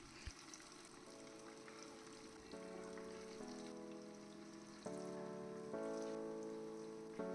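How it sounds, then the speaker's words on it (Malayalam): Kerala-style chicken fries in hot coconut oil with a faint, steady crackling sizzle like light rain, while soft stepped musical tones play underneath. "എന്നിട്ട് വെളിച്ചെണ്ണ നന്നായി ചൂടാകുമ്പോൾ ചിക്കൻ ഇട്ട് കൊടുക്കുക."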